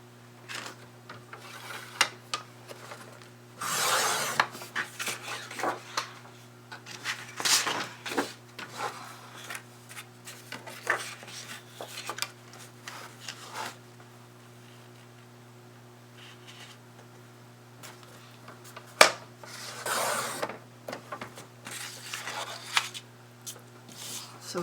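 Cardstock is cut with scissors or a trimmer in scattered rasping, scraping strokes and bursts over a steady low electrical hum, close and moderately quiet.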